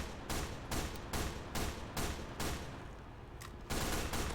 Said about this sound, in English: So Amadeus decides to bring out the SMG.